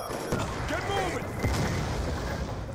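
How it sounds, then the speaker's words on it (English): Hellstorm missile blasts in Call of Duty Black Ops 2 thunder as a rapid cluster of heavy booms and crackling impacts, loud and continuous over the short span. "Friendly Hellstorm missile inbound."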